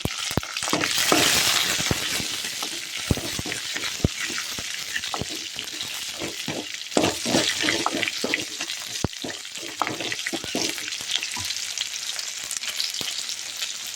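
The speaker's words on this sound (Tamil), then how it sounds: "இது தாளித்ததை இதை அப்படியே ஊற்றி கலந்து விடணும்" Hot tempering of onion, curry leaves and asafoetida poured into a spinach curry, which is then stirred: steady sizzling and frying hiss with scraping and clinking of a spoon against the pot throughout, close and continuous.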